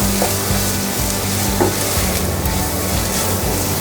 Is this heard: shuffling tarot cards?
no